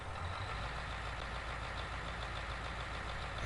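A Fendt tractor engine in Farming Simulator 19 idles at a steady low rumble, a quiet, even mechanical drone that holds without revving across the short stretch.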